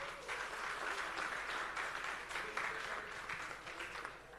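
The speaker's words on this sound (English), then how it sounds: "a round of applause" Faint, steady applause from an audience of University of Abuja students at a democracy-themed fireside chat, a continuous wash of many hands clapping heard from some distance.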